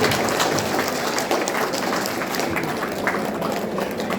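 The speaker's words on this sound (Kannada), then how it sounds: "ಎಲ್ಲರೂ ಚಪ್ಪಾಳೆ ತಟ್ಟುವುದರ ಮೂಲಕ ಒಂದು ಪ್ರತಿಮೆಯನ್ನು" A crowd of attendees at a statue unveiling ceremony claps continuously, a dense steady wash of applause from start to finish.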